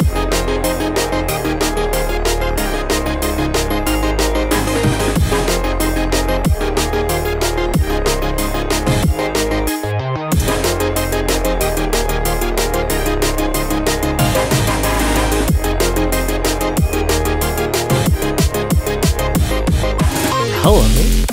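A dense, loud hyperpop beat plays continuously, layered with bright supersaw synths, glockenspiel and punchy drums, with a brief dropout and sweep near the middle before the full mix returns.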